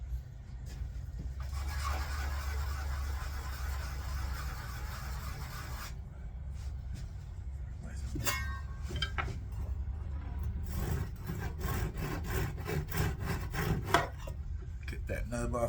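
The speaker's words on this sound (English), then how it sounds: "Sand the bottom and top of this just a little bit here." A small wooden rook chess piece being sanded at top and bottom, giving a steady close rasping rub that shifts into quicker, choppy strokes with occasional knocks.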